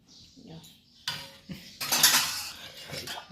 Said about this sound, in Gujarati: સરસ મજાનું હલાવી દઈશું